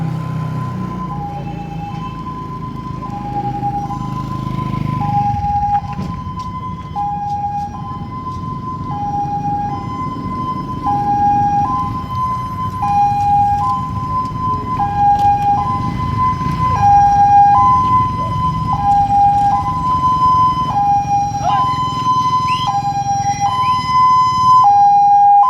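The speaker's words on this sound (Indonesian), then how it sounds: "bunyi sirene itu mayatnya sudah dekat" An ambulance siren wails in a steady two-tone hi-lo pattern, loud and close throughout, over a rumble of road traffic, growing slightly stronger as it approaches.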